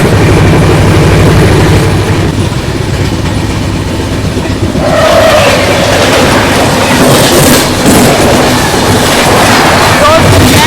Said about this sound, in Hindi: कुछ ही देर में आने वाली है अपनी रामेश्वरम हमसफ़र एक्सप्रेस